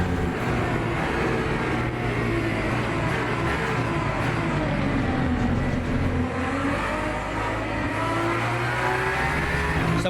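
An Aston Martin Valkyrie and AMG race cars roar together on a racing circuit, a dense, loud, continuous engine drone with shifting revs running the whole time and no voices.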